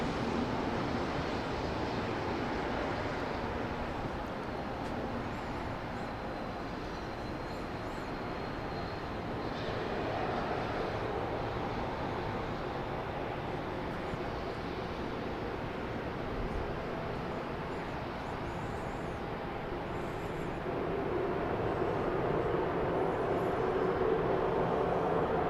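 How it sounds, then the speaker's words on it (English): Broad, steady engine roar from an airliner moving at Dallas Love Field airport, carried at a distance with a slight swell toward the end, continuous and without speech. "There's a plane on the move."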